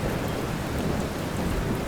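Heavy cartoon rainstorm with a steady, dense downpour and low thunder rumbling beneath it, loud and continuous, with no voices.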